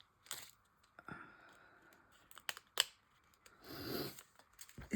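Small scissors snipping through paper stickers and craft material during an album cover collage, a few quick close clicks and crisp cuts with soft rustling between them, faint and intermittent.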